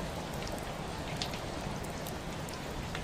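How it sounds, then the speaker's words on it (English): Steady rain patters evenly on glass, a dense continuous hiss with scattered faint drop ticks, soft and unbroken, with no voices. "the rain is just a sound on glass"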